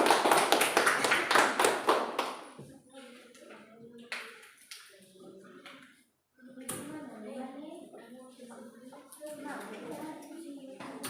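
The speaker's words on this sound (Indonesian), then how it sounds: "Silakan tepuk tangan untuk kelompok 2 dulu." A classroom group bursts into quick, loud applause for a few seconds, then the clapping fades as a teacher's voice takes over and talk continues at a lower level.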